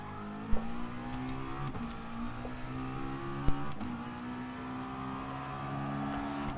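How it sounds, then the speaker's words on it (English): Steady, droning roar of an old McLaren race car engine in Gran Turismo Sport, holding revs with shifting pitch and a couple of sharp thumps, loud and alone. "Doesn't sound too bad, the old McLaren"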